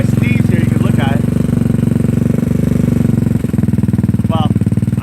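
A GY6 scooter engine putters at idle, loud and close with a rapid, even chugging pulse and a slight stumble near the end, while someone talks over it.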